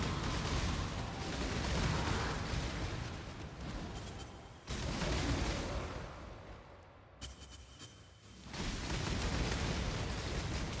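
Corpse Explode skill in an action game setting off a dense, continuous wash of layered explosions, loud and rumbling throughout with a couple of brief drops, no voices.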